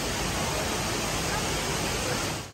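A large indoor waterfall in Singapore roars as a steady, dense wash of falling water, loud and unbroken throughout.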